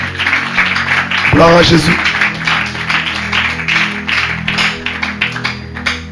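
A church congregation applauds in praise, a steady wash of clapping that runs throughout, with a voice speaking over it partway through.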